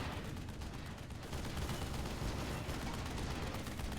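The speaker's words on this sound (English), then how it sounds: "More artillery from Arcanos." Dense artillery fire and explosions in the strategy video game Airmech, a continuous rumbling barrage of booms and gunfire, loud and close, with no clear speech.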